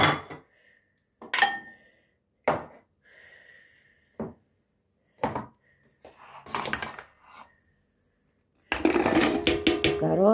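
Chopped onion tumbling into a pot of traditional Greek bean soup, a series of short soft clatters and clinks of utensils against cookware, with a longer burst of tipping and rustling near the end; no one speaks.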